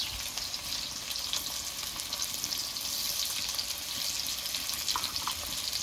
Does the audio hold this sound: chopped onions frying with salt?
yes